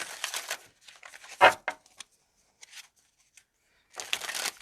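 Tarot cards riffle and shuffle in several papery bursts near the microphone, with short pauses between and light handling noises.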